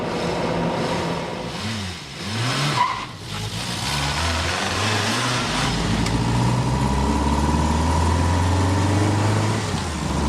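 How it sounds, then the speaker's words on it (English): Reliant Robin three-wheeler car driving uphill, its loud, strained engine droning steadily up close with rising and falling revs, then settling into a sustained roar. "The Reliant Robin is by far the loudest car I have to drive, even louder than the Trabant"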